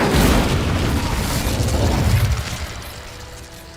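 Incendio fire spell cast in Hogwarts Legacy: a loud, roaring blast of flame that surges at once and holds for a few seconds before slowly dying down, with no voices over it.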